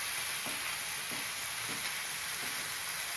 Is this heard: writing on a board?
no